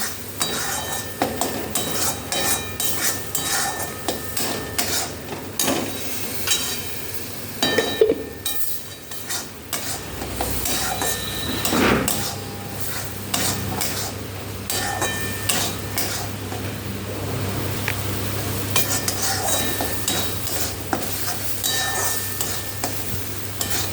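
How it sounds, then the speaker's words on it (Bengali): Masala with turmeric, ground coriander and cumin being sautéed in a pan for mutton keema, a steady close sizzle broken by spoon scrapes and knocks against the metal, running throughout without speech. "এবার মশলাটাকে ভালো করে কষিয়ে নেব।"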